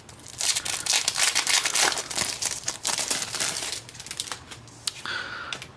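Crinkling plastic and rustling packaging as an Inateck ultraslim Bluetooth keyboard is pulled out of its box, a busy run of crackles and scrapes close to the listener, easing off near the end.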